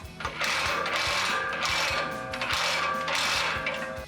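A bolt being tightened with a power tool during a rear lift spring install on a RAM 1500 truck, heard as two long, loud mechanical whirring bursts with ratcheting clatter and brief pauses between them.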